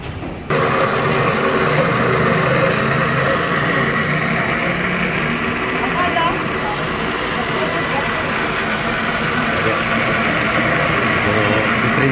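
A kitchen blender motor runs steadily while grinding vegetables, a loud continuous whirring drone that begins abruptly after a brief silent moment and holds for the whole stretch, with a voice talking over it.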